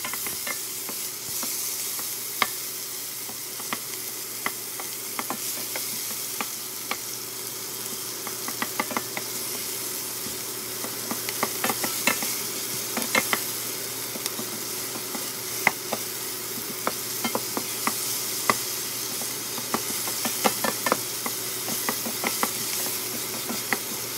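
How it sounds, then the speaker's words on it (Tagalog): Tomato and onion sautéing in oil in a pan, a steady close hiss with frequent light stirring clicks and taps throughout, no talk. "Tapos, igisa lang yung kamatis at onion."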